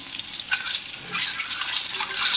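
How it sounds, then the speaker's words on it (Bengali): An egg fries in a hot pan, browning, with a continuous close sizzle and crackle that swells in bursts, mixed with light stirring scrapes and no voices. "ডিমটা লাল লাল করে ভেজে নেব"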